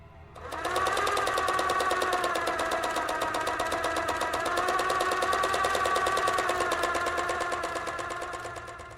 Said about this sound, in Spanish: El mecánico y rítmico sonido de la máquina de coser.